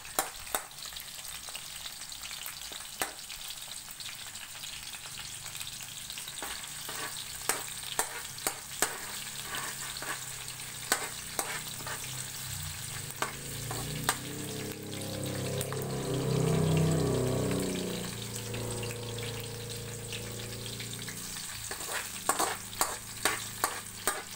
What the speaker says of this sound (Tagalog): Ato sa siyang gisahon ang sibuyas bombay.